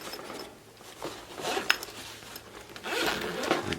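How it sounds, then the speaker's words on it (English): A zipper on a camera bag from a Canon EOS Rebel T8i bundle is drawn along its track in two quick close-up rasping pulls, with light rubbing handling noise in between and no talking. "You have another zipper right in the front here"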